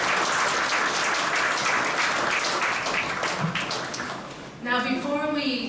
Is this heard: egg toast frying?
no